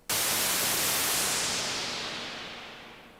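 A burst of hissing noise from a Moog Grandmother synthesizer starts abruptly and sweeps darker as the filter closes, fading gradually over a few seconds.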